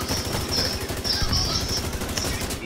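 Rapid automatic gunfire in The Division 2, sustained bursts of rattling shots at close range, loud and continuous throughout with no speech over it.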